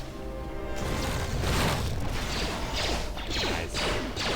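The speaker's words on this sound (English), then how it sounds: "Oh, I do have adhesive grenade. Let's do that." Adhesive grenade explosion in Knights of the Old Republic II: a booming blast that swells into a dense, sustained crash of rumbling debris and whooshing bursts, loud and continuous throughout.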